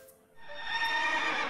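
A horse in the video game Hearthstone gives a single bright whinny that builds quickly and trembles for about a second, clean and moderately quiet, with no other sounds.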